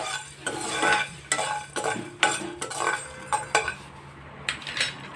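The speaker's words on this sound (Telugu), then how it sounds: "మూడు లవంగాలు ఒక చెక్క ముక్క ఒక యాలక్కాయ వేసుకుంటున్నాను ఇది కూడా ఫ్రై చేసుకుందాము" Whole cloves, a piece of cinnamon and a cardamom pod frying in a pan while being stirred, giving several distinct bursts of scraping and clinking with a soft sizzle in between, close and moderately loud.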